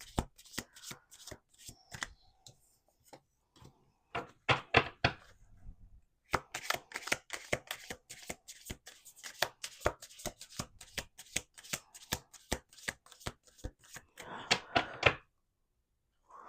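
Crisp, rapid riffling of playing cards being shuffled several times in quick bursts, close up, with brief pauses between shuffles.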